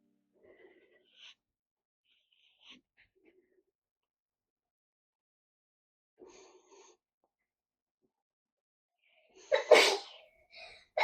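A single loud sneeze bursts out near the end after a few faint breathy rustles and small sounds. It is close and sharp, with a brief trailing exhale.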